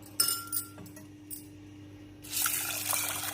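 A few glassy clinks and drips, then water pours steadily and splashes into a metal pressure cooker holding toor dal, onion and spices, close and fairly loud.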